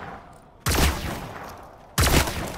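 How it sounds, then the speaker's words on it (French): Sci-fi laser sniper rifle fired in Fortnite, two sharp, loud blasts about a second apart, each with a bright crack and a decaying tail over a steady background hum. "Ça tire des rayons laser."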